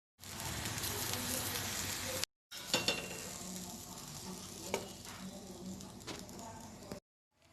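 Besan cheela fries on a pan with a loud, steady sizzle. After a brief cut, a quieter crackling hiss continues with a few clicks, and the clip ends abruptly.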